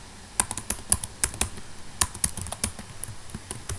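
Someone types HTML on a computer keyboard in a quick, irregular run of close, clicky keystrokes with a few sharper key hits, and there is no talking.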